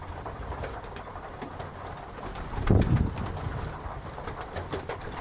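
Pigeons coo softly and repeatedly at close range, swelling into a louder, throaty burst midway before settling back to a steady murmur.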